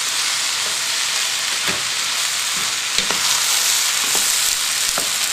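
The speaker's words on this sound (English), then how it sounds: "Now it's important to keep mixing this, just like we did with the onions." Potatoes for a vegetarian samosa filling frying in a pan, a steady close sizzle with scattered scraping stir strokes every second or so, no voices.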